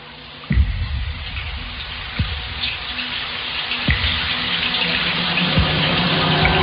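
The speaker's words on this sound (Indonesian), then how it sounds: "Dan keran itu masih terdengar menyala." A water tap left running in a toilet room: a steady, close rushing stream that starts abruptly and continues alone, with a few soft knocks in the background.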